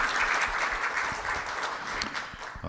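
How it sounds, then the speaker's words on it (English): An audience at a regional economic development meeting applauds panelists, with steady, dense clapping from a roomful of people throughout the short stretch. "Would you give all those panelists a nice round of applause"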